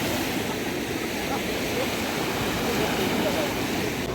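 Sea water washes over the rocks at Jeddah Corniche on an evening shore, making a continuous loud rushing wash that stays close and unbroken throughout.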